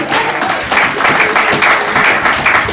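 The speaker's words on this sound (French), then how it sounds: "klappen voor hem?" A church congregation applauds for the Lord, a loud, sustained wash of many hands clapping with slight rhythmic swells, a few voices faintly mixed in.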